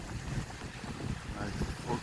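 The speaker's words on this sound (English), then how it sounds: "There is some wind." Wind buffets the microphone on a beach in December, a continuous low rumbling roar that stays loud throughout, with distant surf blended underneath.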